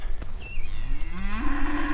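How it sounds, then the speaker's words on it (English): Cattle in a farm field let out a long, loud, rising moo close by, with other background noise around it and no talk. "Cows, don't go down the field."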